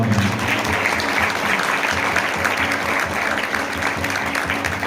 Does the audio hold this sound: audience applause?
yes